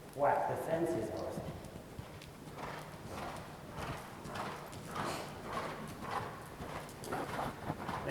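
Horse hooves clip-clop at a steady rhythm through an outdoor riding lesson, with an instructor talking over the footfalls and a brief whinny possible near the start.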